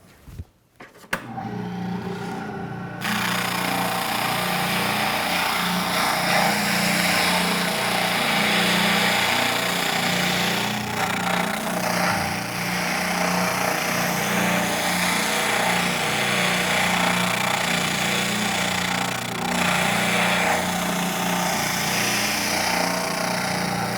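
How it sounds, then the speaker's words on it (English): A spindle sander shapes the final profile of a wooden template for a Greene & Greene style rafter table, giving a steady, loud motor whine with a rasping sanding tone that runs continuously and alone. "using the spindle sander, put the final shape to that profile"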